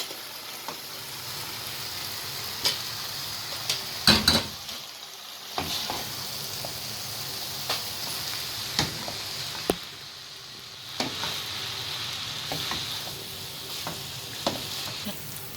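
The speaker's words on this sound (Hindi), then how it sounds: "मैं इसमें ये नूडल्स ऐड करने लगी हूँ" Noodles and macaroni sizzle in a frying pan, with a continuous hiss of frying broken up by repeated scraping and clattering stirs of a utensil against the pan. No one speaks.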